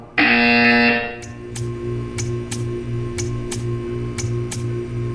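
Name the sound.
buzzer from a video game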